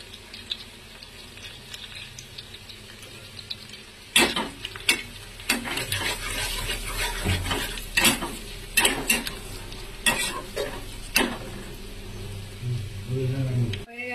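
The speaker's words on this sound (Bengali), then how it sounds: "দিয়ে দিচ্ছি পেঁয়াজ কুচি, দিয়ে দিচ্ছি হলুদ," Chopped onion and turmeric frying in a pan for kochu shak, with a low sizzle joined partway through by loud, irregular clanks and scrapes of stirring against the pan.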